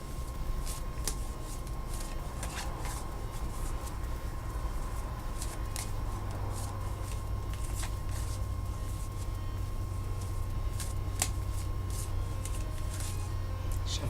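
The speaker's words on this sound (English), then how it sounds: "Shuffling the cards." Tarot cards are shuffled over a low steady hum of room noise, giving repeated soft riffling and flicking bursts spread unevenly across the stretch, fairly quiet and close.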